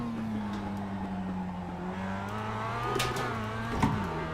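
A race car engine in the iRacing simulator holds a steady drone, then rises in pitch and revs sharply near the end as a tire leaves the ground, loud and close.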